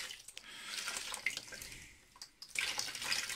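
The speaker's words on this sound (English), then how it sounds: "Taking it under the running water now, let me just make the water a little warmer." A telescope mirror, from a Soligor MT-800 Astro 200mm f/4 Newtonian, rinsed under warm running tap water, a steady hissing splash that drops back briefly midway then returns full and close.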